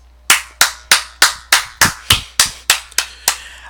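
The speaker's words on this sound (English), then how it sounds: "I'm going to clap again" Eleven sharp, evenly spaced hand claps, close and loud, each with a quick decay and no voices between them.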